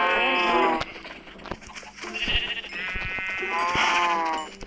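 Minecraft sheep bleat several times in quick succession, loud and close, wavering calls overlapping with someone talking.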